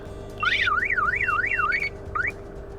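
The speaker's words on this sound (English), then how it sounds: "the alarm turns on" A wireless aftermarket car alarm, triggered by opening the door, wails loudly with a rapid rising-and-falling electronic siren, cuts off briefly, then restarts with another short chirp.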